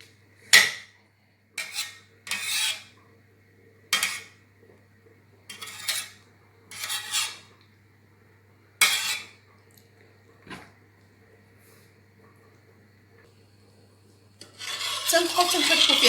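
A spoon scrapes and clinks against a pot while homemade honey syrup is stirred, in short separate bursts with pauses between them, then a longer rough scraping run at the end.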